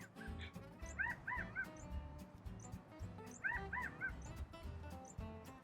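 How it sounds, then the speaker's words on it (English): A California quail calls twice, each a quick three-note phrase, moderately faint and outdoors, with a low rumbling background throughout. "That's the sound of a quail, California's state bird."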